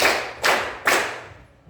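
Students in a classroom clap three times together on command, three crisp, evenly spaced claps close by, fading into a quiet room.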